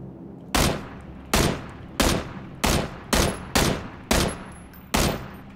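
Eight loud, sharp gunshots ring out in PUBG Battlegrounds, spaced roughly evenly with short decaying tails, fired alone without any talk over them.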